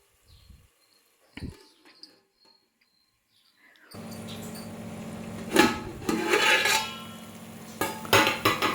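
Chicken pulao being stirred in a pot with yogurt and coconut milk, with a sizzling wash and several scraping, clinking stirs after a quiet opening with a few faint knocks.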